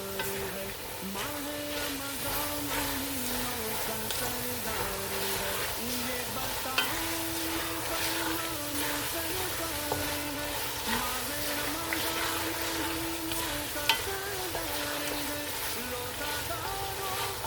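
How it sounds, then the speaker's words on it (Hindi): Julienned carrots and potatoes sautéing in a pan for vegetable pulao, a continuous soft sizzle with a few stirring clicks, while someone talks quietly in the background. "अब हमने इसको इतना भूनना है कि जो हमारे आलू हैं वो अच्छी तरह गल जाएं।"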